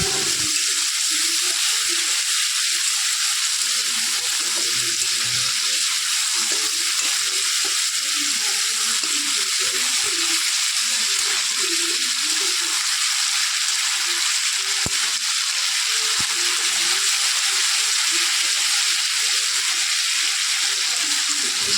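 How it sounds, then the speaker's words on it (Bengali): Steady, loud sizzling hiss of a ginger spice paste frying with a little water in a pan, continuous and unbroken throughout, with faint clinks now and then. "সামান্য পরিমাণ জল দিয়ে এই মশলাটাকে ভেজে নিতে হবে"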